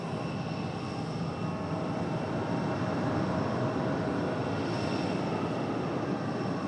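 A UPS heavy cargo jet taking off on runway 5 left at Raleigh-Durham International, its engines a continuous loud broadband roar with a faint high whine, holding steady throughout.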